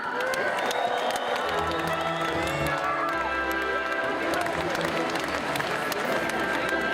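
Steady, dense applause from a large crowd at a Moscow Navruz 2015 celebration, continuous and loud throughout, with a hall-like roar and faint music or voices mixed underneath.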